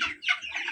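A chicken on a poultry farm clucks in a few quick, close calls within a fraction of a second, moderately loud and with no talking.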